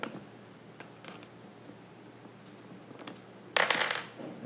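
Sharp metallic clicks and ticks from screws being tightened on a CineMilled Mitchell mount adapter for the Ronin gimbal; scattered small taps, then a louder, denser rattling burst near the end, close by with no talk.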